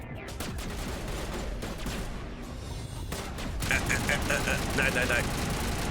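Gunfire in Mass Effect Legendary Edition, a continuous dense barrage of shots with sharper bursts later on, mixed with other game sounds and heard under a voice.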